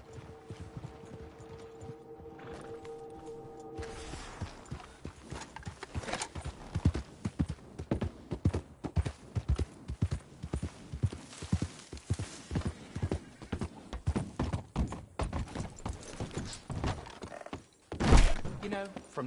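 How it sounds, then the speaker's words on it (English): Horse hooves clip-clop steadily in the video game Red Dead Redemption 2, a brisk rhythmic run of close thuds after a quieter opening, ending in a louder thump near the close. "Just look at that horse."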